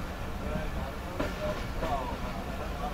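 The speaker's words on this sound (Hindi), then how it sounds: "तो ये काफ़ी अच्छा मोड़ है शादराबाग का, जिसके पास से गुजर रही है इस वक्त हमारी ट्रेन।" The Karakoram Express, made up of old coaches, rolls along the track at a junction near Shahdara Bagh, heard from inside as a steady rumble and rattle with a couple of faint clicks, while a voice talks over it.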